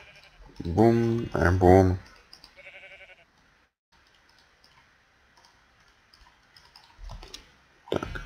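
In the Minecraft video game, a sheep gives two loud bleats back to back, followed by light clicking and brief spoken words.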